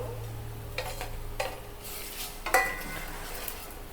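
Roasted masala with a piece of ginger gets stirred in a pan, a quiet low sizzle broken by a few soft scraping strokes of the spoon and one sharper clink.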